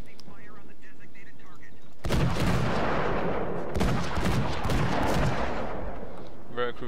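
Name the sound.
naval guns firing in World of Warships video game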